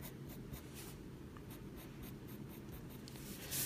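A mechanical pencil loaded with hard lead scratches steadily across paper while a Green Lantern figure is drawn, a close, continuous dry rasp with short stroke bursts and no talking.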